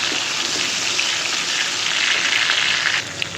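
Onions and green chillies frying in a pan: a steady, loud, close sizzle with a bright crackling hiss, continuous and unbroken, easing slightly near the end.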